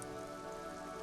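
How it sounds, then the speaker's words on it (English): Rain in the video game Disco Elysium patters steadily on surfaces, a soft, continuous wash of droplets at low volume with no voices. "The rain will not let up anytime soon."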